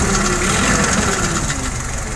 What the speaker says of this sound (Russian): Смотрим, как работает двигатель.